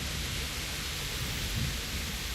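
Heavy rain in the game Kingdom Come: Deliverance, a dense, constant roar of downpour with a low rumbling undertone, loud and unbroken with no voices.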